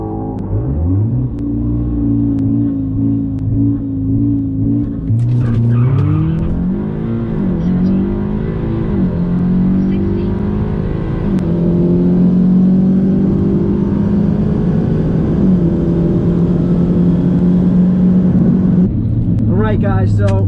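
A Stage 2 Audi S3 makes a drag strip pass, its engine revving loudly and climbing through the gears with shifts and sustained high-rpm roar, close and continuous for about twenty seconds.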